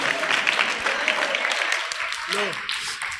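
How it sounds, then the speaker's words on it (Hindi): An audience at a religious study lecture claps to welcome a correct quiz answer, a steady, dense wash of applause that lasts throughout, with a voice briefly heard over it. "तालियों के माध्यम से स्वागत करेंगे।"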